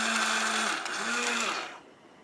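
A blender grinds peppers finer, whirring loudly with a steady motor whine that dips once, picks up again, then winds down and fades out.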